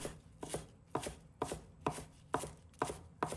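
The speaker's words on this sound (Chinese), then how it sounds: "再把葱叶也切成葱花" A knife chops green onion leaves on a cutting board, giving eight crisp, evenly spaced double taps in a steady rhythm, close and clear with no talk.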